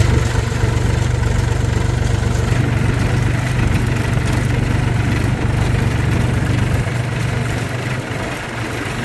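A tractor engine runs steadily throughout, a loud, close, continuous low chugging idle with a slight fade near the end, out in a village setting.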